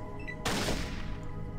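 A gunshot in the video game Fallout 1 lands as a single loud, sharp blast with a sustained crackling tail over steady low background game music.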